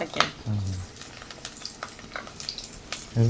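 Green chillies sizzle and crackle in hot oil, with a couple of brief low scraping stirs and faint clinks throughout.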